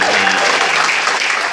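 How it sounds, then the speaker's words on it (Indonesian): Dense, loud applause from an audience at a university trophy handover event, a brief, steady wash of many hands clapping together. "Tepuk tangan untuk Anda."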